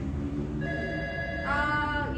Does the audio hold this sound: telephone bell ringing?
yes